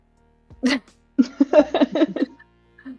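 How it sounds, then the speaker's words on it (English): Two bursts of coughing: a single sharp cough, a pause, then a rapid run of several hacking coughs close to the mic, followed by a faint short sound. "I need to cough."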